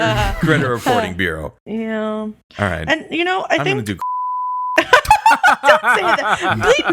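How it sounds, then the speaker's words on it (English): A steady censor bleep tone holds for about three-quarters of a second, cutting off a word in the middle of lively conversation, with talk running right up to it and resuming straight after. "Beep that out for sure."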